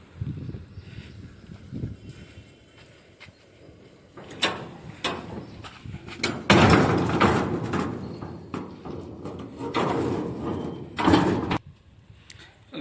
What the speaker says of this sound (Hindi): गाइस देख सकते हैं कंटेनर का दोनों दरवाज़ा बंद कर दिए,